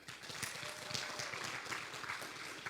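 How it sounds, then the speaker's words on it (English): An audience at a recovery gathering claps in a steady, fairly faint patter of many hands throughout, with no clear speech over it. "Can I get a hand clap for that?"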